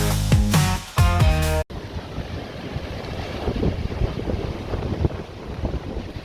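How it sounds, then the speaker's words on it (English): Strong storm wind of about 45 mph batters a beach during Storm Bert, heavy buffeting gusts and microphone rumble with surf beneath, following a brief burst of music at the start. "There's 45-mile-an-hour winds and I'm at the beach."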